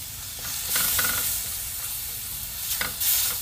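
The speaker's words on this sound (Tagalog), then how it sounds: "dinudurog-durog natin yung kamatis para lumabas yung kanyang katas" Tomatoes are crushed and stirred in a hot pan while cooking pork hock, making a continuous sizzle with scraping stirs and short louder bursts of frying hiss.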